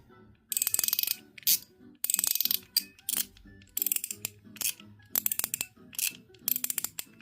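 A Bakelite 'Multiple Track' mechanical slider by an unknown maker clicks through its detents in quick ratcheting bursts, several rapid runs of sharp close clicks separated by brief silences.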